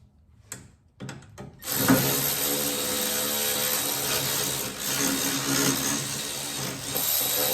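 A battery-powered ratchet works 10 mm bolts on an Audi 2.0 TFSI engine, starting with a few sharp taps and clicks before a sustained, close motor whir that wavers as the bolts turn.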